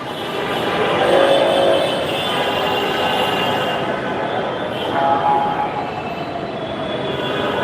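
A metro rail train at Karwan Bazar station in Dhaka rumbles steadily along the platform, with faint wheel squeal and a brief swell in loudness midway.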